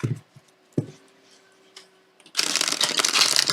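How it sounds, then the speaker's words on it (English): Cards from a Lord of the Rings tarot deck are shuffled close by: a few soft ticks and flicks at first, then a dense, loud burst of riffling card noise in the final second. "It's not going to be a difficult deck to shuffle."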